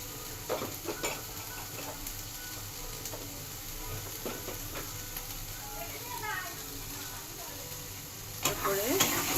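Taro greens cooking with a hilsa fish head and chili powder, a soft sizzle under scattered scraping stirs and light utensil clinks, fairly quiet with a few louder scrapes near the end.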